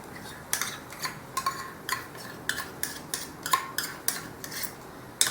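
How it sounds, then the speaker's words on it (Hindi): Ghee goes into a frying pan for paneer ghee roast, with a run of light metallic clinks and taps of a spoon against the pan, fairly quiet and evenly spaced. "ये ले ली फ्राइंग पैन, इसमें डाल दिया घी"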